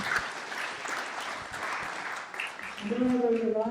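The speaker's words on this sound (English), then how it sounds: "Let's give our panelists a big round of applause." Applause from the audience at a panel discussion on the future of waste management after incineration in Salem, a broad steady patter of clapping that runs through most of the clip, with a voice starting to speak near the end.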